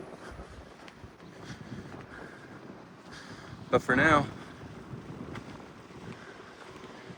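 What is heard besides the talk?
wind blowing at a hilltop viewpoint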